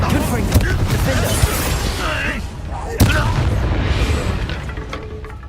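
Blasting spell explosions in Hogwarts Legacy combat, a couple of sharp booms and bursts over dense battle noise, loud and close, with a voice calling out spells.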